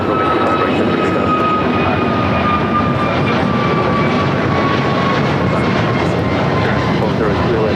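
An airliner takes off from runway 25 right at LAX, its engines a loud, steady roar throughout with a faint whine that shifts slowly, no talk audible over it.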